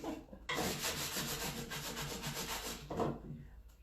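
Steady, rhythmic rasp of hand sanding on a wooden frame, close and continuous strokes with a brief pause before resuming.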